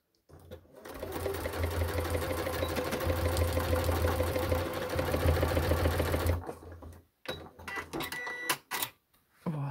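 Sewing machine stitching a handbag, running loud and steady for several seconds with a rapid mechanical rattle, then stopping and giving way to short clicks and handling noises.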